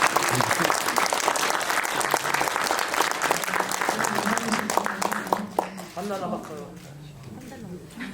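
A theater audience applauds together for an actress's upcoming birthday during a film Q&A, dense sustained clapping that fades slightly toward the end as a voice begins speaking.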